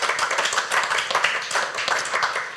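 A church congregation breaks into brisk, continuous applause, many hands clapping densely and fairly close for a few seconds without speech.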